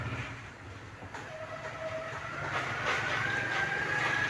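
A train rumbles at Multan railway station, a steady rolling clatter that grows louder toward the end, with a faint whistle-like tone above the noise.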